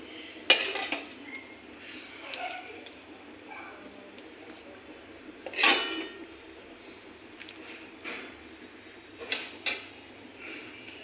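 A metal serving spoon clangs and scrapes against a pot while shing fish and green plantain curry is dished up, with a few sharp knocks spread across quiet kitchen background.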